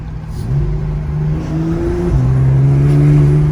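A Porsche engine with a PDK gearbox revving up close and loud, its pitch climbing, dipping briefly, then rising again into a sustained rev.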